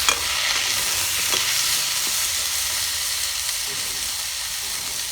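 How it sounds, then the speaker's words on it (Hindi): Vegetables stir-fry in a pan with a loud, continuous sizzle and hiss, broken by a few soft scrapes of stirring. "बढ़िया से भून लेबो।"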